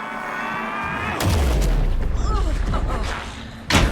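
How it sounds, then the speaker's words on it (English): Gunfire in the video game Alan Wake 2, a heavy booming shot followed by a deep rumbling tail and further echoing impacts, ending with another sharp blast, with game dialogue underneath. "Anderson, pin him down with gunfire for me to get the light on him"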